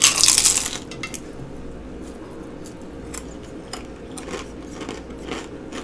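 A loud crunchy bite into Chinese food bursts out right at the start, followed by faint, scattered chewing clicks and crackles close to the mouth.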